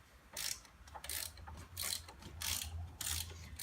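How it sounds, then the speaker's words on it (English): A ratchet wrench loosening hub bolts on a truck axle: close, rapid clicking ratchet strokes in repeated bursts of about half a second, with short pauses between them. "there's 3 bolts here that hold the hub on right here. Right now, I'm loosening them 3."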